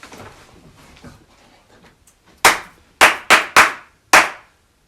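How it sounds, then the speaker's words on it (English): Hand clapping inside a reputedly haunted house: after quiet faint shuffling, five loud, sharp claps close by, the middle ones in quick succession and the last after a short gap. "I'm going to clap too,"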